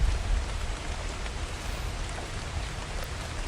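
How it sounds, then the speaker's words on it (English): Steady, soft hiss of light rain falling, a continuous even patter with no voices, fairly close and constant throughout. "Maybe it's a light rain, maybe it's a light snow."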